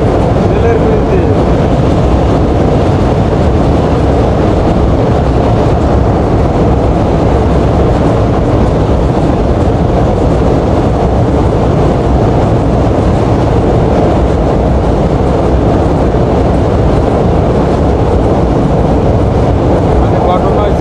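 Banalata Express train rolling across the Jamuna rail bridge: a loud, unbroken low rumble and roar of wheels and carriages that holds steady from start to finish.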